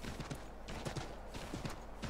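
A horse's hooves clip-clopping in a steady trotting rhythm in Assassin's Creed 3, close and moderately quiet, with no talk over it.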